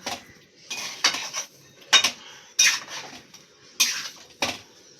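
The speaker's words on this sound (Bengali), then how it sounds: "দিয়ে দিলাম লাল লঙ্কার গুঁড়ো এবার সব ভালো করে মিশিয়ে নেব" A utensil stirs kachki fish curry with red chili powder in a pan, making a series of sharp metallic scrapes and clinks in irregular bursts, close and fairly loud.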